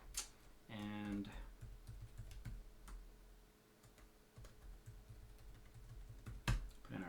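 Password typed on a computer keyboard while configuring an Untangle network router, a short quick burst of close key clicks followed by scattered faint clicks and a quiet room.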